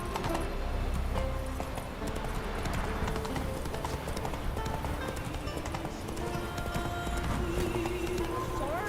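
Hooves of the horse Roach gallop steadily in The Witcher 3, a dense, continuous clip-clop rhythm held at close range throughout, with game music and a voice speaking over it.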